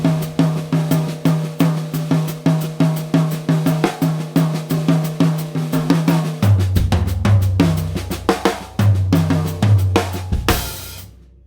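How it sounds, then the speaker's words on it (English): A drum kit plays a straight-time down-up pattern led by the right hand, a steady run of crisp, evenly spaced strokes alternating downbeat and upbeat, with low drum accents joining midway and a crash near the end. "The regular straight time down up method, which sounds like this, jumping from downbeat to upbeat."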